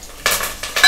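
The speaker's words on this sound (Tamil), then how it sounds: "ஆ நல்லா வெடிச்சு வருது, நல்லா கிளறிக்கலாம்." Spices with curry leaves and chopped ingredients crackle and sizzle in a hot pan while cooking ven pongal, two short close bursts of sputtering with a stirring scrape between them.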